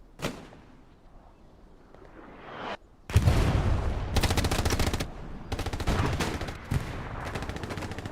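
Sustained machine gun fire from a team's MG in a competitive Hell Let Loose match, loud rapid bursts that start abruptly after a quieter stretch with a single early shot, then continue in dense volleys with brief pauses.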